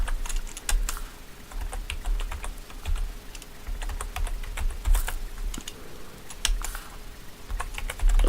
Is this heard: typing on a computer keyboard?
yes